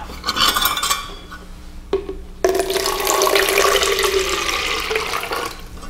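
Water poured from a measuring cup into a container, a brief splash and pause followed by a steady, loud rushing pour that lasts several seconds.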